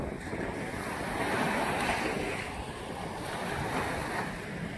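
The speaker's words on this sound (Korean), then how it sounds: "지금 보시면 파도라는 것은 원래 이렇게 치는 것입니다" Ocean surf breaking on Haeundae beach in Busan, a continuous close roar of waves swelling and easing, with wind buffeting the microphone.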